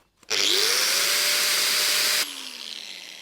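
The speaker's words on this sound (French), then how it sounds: "On monte crescendo avec la disqueuse." An angle grinder drawing about 700 watts, powered by an EcoFlow Delta Pro battery, spins up with a sharp start and runs loud and steady with a high whine, then cuts off, leaving a fading hum.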